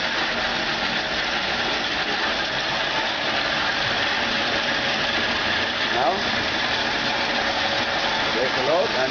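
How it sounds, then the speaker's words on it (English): An electric motor runs steadily nearby, a continuous even whirring hum with no change in pace, while a voice speaks briefly over it. "this one is running the motor"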